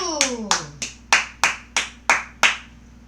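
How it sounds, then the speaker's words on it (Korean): A few hands clapping in a loose, slightly uneven rhythm: about eight sharp, distinct claps, close and fairly loud, after a short burst of voices, at a Korean political talk broadcast. "박수!"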